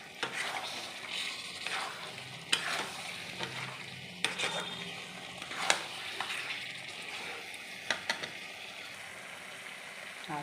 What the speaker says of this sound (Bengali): এখন আমি ভালো করে কষবো অনেকক্ষণ ধরে।